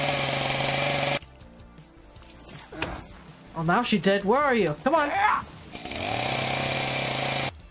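Video game chainsaw chopping: loud, harsh, steady buzzing bursts open and close the stretch, with a quieter middle where a person talks and an expressive voice rises and falls.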